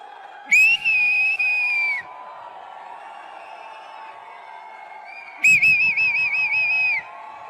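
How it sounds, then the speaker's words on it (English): Loud, shrill whistling at the POCO X7 series phone launch event: two sustained whistles, each lasting over a second with a wavering pitch, separated by a quiet murmur. "Okay, let's go for a whistle."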